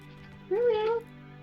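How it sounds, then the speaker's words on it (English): A cat in the video game Hogwarts Legacy gives a single rising-and-falling meow, moderately loud over a low background hum. "Oh cat."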